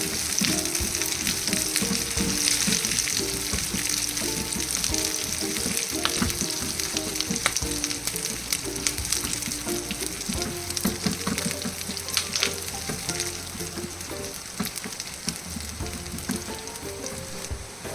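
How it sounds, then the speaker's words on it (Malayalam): Curry leaves and chicken sautéing in a pan for jeera chicken, a constant close sizzle with repeated scraping and clinking as the mix is stirred, no voices. "കറിവേപ്പില ഇടുക. എന്നിട്ട് കുറച്ച് സമയം കൂടി വഴറ്റുക."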